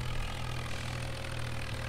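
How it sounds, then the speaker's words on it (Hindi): A Vishal 435 combine harvester in Farming Simulator 19, cutting rice, gives a steady low engine drone with a rumbling silencer exhaust. The drone is continuous and close, with no speech over it. "और सिलेंसर कैसा लगा भाई कंबाइन का"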